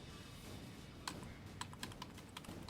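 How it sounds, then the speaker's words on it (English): Quiet keyboard typing: a scattering of light, irregular key clicks over a low background hum. "Pressing the keyboard, see if that'll do it."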